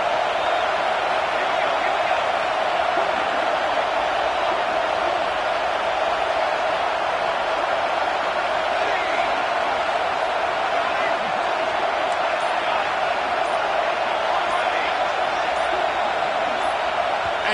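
Stadium crowd in an NCAA 26 college football game, a continuous loud roar of many voices with a steady wash of noise and no clear breaks.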